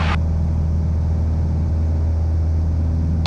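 A light aircraft engine roars at full throttle during takeoff from Denham Airfield, a steady, loud, close drone that holds throughout.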